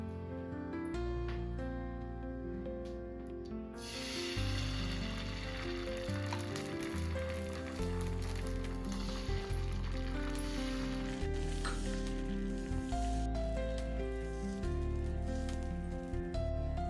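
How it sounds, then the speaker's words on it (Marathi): Fasting-style dosa batter sizzles steadily on a hot pan, a constant close frying hiss that lasts throughout, with a background tone and no talking. "आपण डोसे टाकूया."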